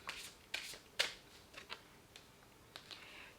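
Oracle cards being shuffled and one drawn from the deck: a handful of crisp, quiet riffling snaps and flicks spaced irregularly over a few seconds, close and soft with no talk.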